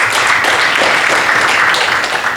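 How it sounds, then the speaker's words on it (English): Applause from an audience at the inauguration of a youth center during a partnership meeting, loud, dense and continuous clapping filling the whole stretch. "Please clap for them."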